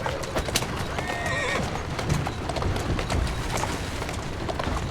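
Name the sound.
horse neighing and hooves in video game Assassin's Creed Syndicate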